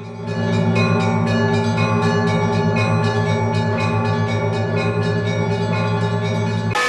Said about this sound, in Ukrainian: Благовістом називаються розмірні удари в один великий дзвін.